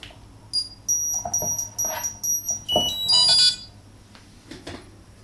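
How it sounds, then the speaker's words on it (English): A Vortex 250 Pro racing drone gives a run of short, high electronic beeps nearby, several in quick succession followed by a brief warbling trill, then quiet. "Okay, it beeps around."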